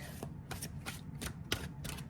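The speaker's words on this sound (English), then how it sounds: "Let's get a good shuffle with this intention, please." Deck of playing cards being shuffled, a quick series of soft riffling bursts in a steady rhythm, close but quiet, with no talking.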